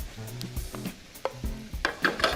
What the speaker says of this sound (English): I'm gonna let this just simmer for about 20 minutes until all the vegetables and the flavors are blended